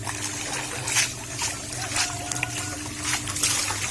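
Aquatic pond plants get rinsed by hand in water, close sloshing, trickling and dripping splashes in an uneven rhythm over a low background hum.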